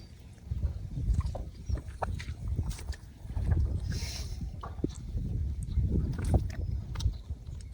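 A boat moves through village floodwater with irregular low splashing and knocking from rowing, close by, with wind noise over the microphone and no talking.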